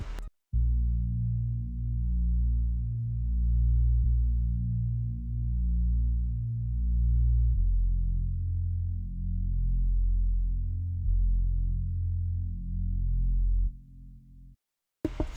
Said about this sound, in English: And so I just threw on a sub bass.